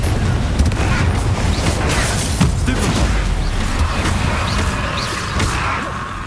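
Fiery Confringo spell blasts in Hogwarts Legacy burst as dull booms over a dense, constant wash of game sound, with a voice speaking over the action.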